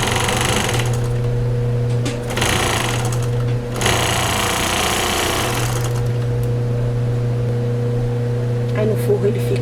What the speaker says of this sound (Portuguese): E vou passar a costura.